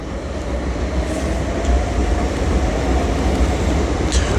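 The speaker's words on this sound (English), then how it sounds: "And arriving in now is our 465s bound for London Charing Cross." A Class 465 electric multiple unit pulls into London Bridge station, a steady loud rumble of wheels and traction with faint squeals near the end, and no voices.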